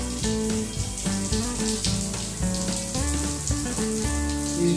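Water from a shower pours steadily over a golden retriever during a bath, a constant hiss of spray with music playing underneath throughout.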